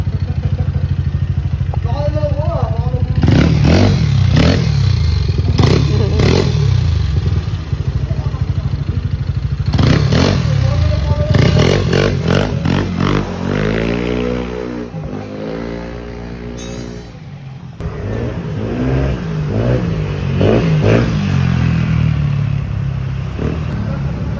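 A Yamaha NMAX 195cc scooter on a test ride, its engine repeatedly revving up and dropping back in loud surges with a rising whine at one point, mixed with wind noise and occasional voices.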